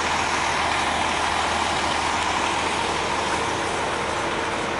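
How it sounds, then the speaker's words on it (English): A cement truck's diesel engine runs steadily at a construction site with rebar structures, a continuous low rumble under broad mechanical noise while it pours cement into another truck's hopper. "that cement truck over there is now pouring cement into the hopper of this truck"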